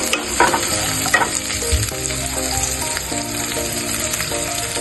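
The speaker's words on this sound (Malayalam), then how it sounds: "പച്ചമുളക് നല്ലവണ്ണം ഇളക്കി കൊടുക്കുക" Two green chillies sizzle steadily in a pan while being stirred, the frying hiss constant with occasional scraping knocks of the spoon, close and fairly loud, no voices.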